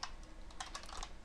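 Quick, light key clicks from typing on a computer keyboard, a soft irregular run of taps heard up close and faint, with no talking.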